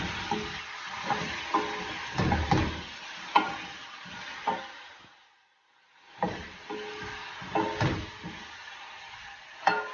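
Chicken karahi sizzles in a pan while a utensil stirs and scrapes it in repeated knocks and scrapes, pausing briefly into near silence midway before the stirring resumes, close and moderately loud.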